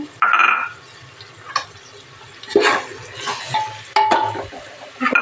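Potatoes tipped into a pot of soya chunk biryani, with a few clattering drops and scrapes against the pot, spoon knocks and light sizzling in a quiet kitchen, close and intermittent.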